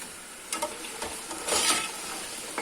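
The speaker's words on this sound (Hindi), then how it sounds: "इसको थोड़ा सा भून लेंगे, बुनाई कर लेंगे ताकि इसका कच्चापन खत्म हो जाए।" Beef trotters for Pakistani paya being sautéed in a pan, a soft sizzle with intermittent scraping and clinking of a spoon stirring against the metal, one louder stir in the middle.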